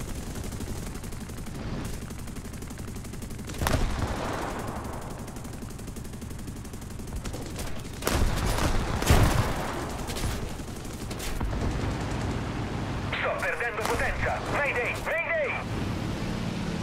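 Bursts of rapid aircraft cannon fire from a game, with loud volleys around the middle, over a steady engine drone and some talking.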